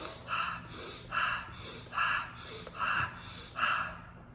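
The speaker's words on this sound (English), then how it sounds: "I will be using the shaman direct breathing, so the quick breathing, rhythmic breathing that he talks about" Quick rhythmic breathing for meditation, in the style of shamanic breathwork: five sharp, evenly spaced breaths about a second apart. They are close, airy and moderately quiet over a faint low hum.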